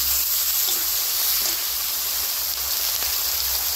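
Spices, chopped onion, ginger, garlic and chilli pastes, chopped tomato, poppy seed, salt and turmeric sizzle steadily in hot oil in a village kitchen, a loud continuous frying hiss with no pauses and no talk.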